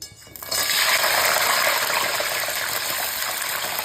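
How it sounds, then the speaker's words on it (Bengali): Crab frying in mustard oil with salt and turmeric over high flame, a loud, steady hiss of sizzling that bursts up suddenly and then holds evenly, close and with no voices. "নুন হলুদ দিয়ে কাঁকড়াটা ভেজে নিচ্ছি।"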